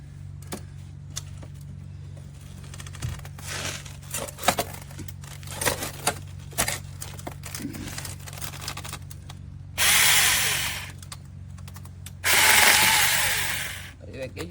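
A SEESII 6-inch battery-powered mini chainsaw cuts through wood, with scattered clatter and handling noise, then two loud, sustained buzzing cuts close by, a voice faint in the background.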